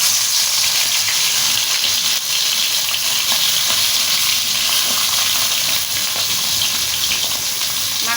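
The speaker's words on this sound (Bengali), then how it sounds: "কড়াইয়ের তেলটা গরম হয়ে গেছে, আমি এখন মাছগুলা ভাইজা নিব।" Poya fish frying in hot oil in a wok, a steady dense sizzle with bubbling hiss throughout, loud and close with no talk.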